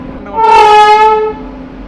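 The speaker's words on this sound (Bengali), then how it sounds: "ট্রেন ঢুকছে ব্যান্ডেল স্টেশনের তিন নম্বর প্ল্যাটফর্মে" The Howrah Black Diamond Express sounds a single loud, sustained horn blast for about a second as it pulls into Bandel station, then it fades away.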